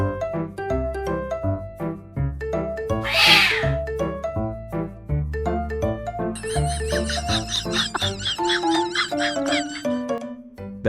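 A mischievous cat mews repeatedly in a loud, close, rhythmic series of short meows, with music and a brief noisy burst over part of it.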